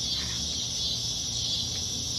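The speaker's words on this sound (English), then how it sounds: "Ooh, cicadas" A steady, high, shrill insect drone of cicadas fills the air without a break, over a low background hum.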